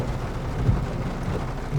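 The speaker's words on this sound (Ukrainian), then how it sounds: "Дощ це завжди приємно, коли він потрібен, але коли він не потрібен, то це неприємно." Rain shower falling over a coriander field during harvest with a New Holland combine, a dense steady hiss of rain with low rumbling underneath, continuous and fairly loud.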